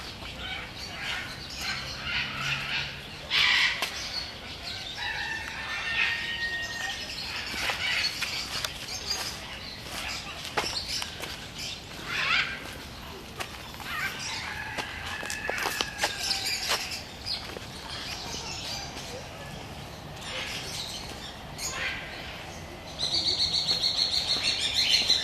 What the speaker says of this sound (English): So a whole lot of birds. Many birds.